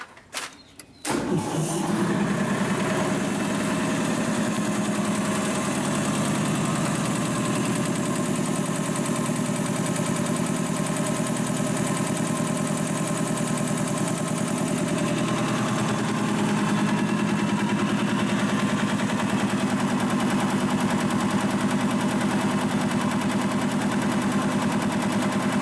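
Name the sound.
industrial two-stage air compressor running after rebuild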